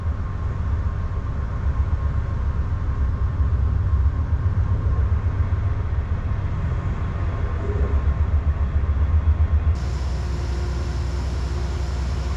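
Amtrak Lake Shore Limited train standing at Albany station while being split into Boston and New York sections, with a steady low idling rumble of locomotives and a faint constant hum, no talking.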